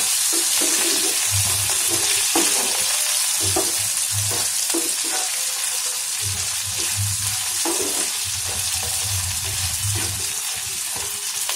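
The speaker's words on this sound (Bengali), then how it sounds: "আদা রসুন দিয়ে 1 মিনিট মতো নাড়াচাড়া করতে হবে।" Ginger and garlic sizzle and fry steadily in a pan while being stirred, a continuous crackling hiss with occasional scraping strokes, close and fairly loud, with no talking.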